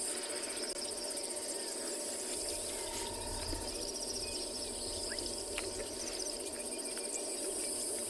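A rubber frog calls from the background of a South African reserve on a morning safari, its faint trill nearly lost in a dense, steady chorus of crickets and insects.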